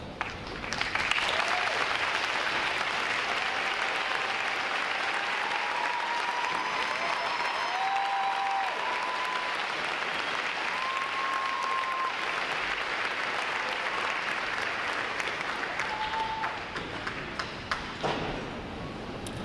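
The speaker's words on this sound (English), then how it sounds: "give you a round of applause" Long, sustained applause from a large crowd at a U.S. Navy recruit training graduation, honoring veterans as they stand; steady dense clapping with faint whistles and cheers rising above it, continuing evenly throughout.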